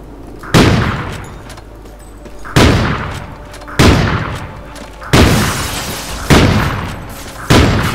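Six heavy no-scope sniper rifle shots in the shooter Call of Duty: Ghosts, each one a loud, sharp crack with a long ringing decay, spaced a second or so apart.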